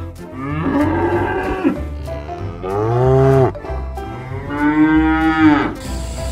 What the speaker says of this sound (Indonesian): Wow, yang ini seekor sapi.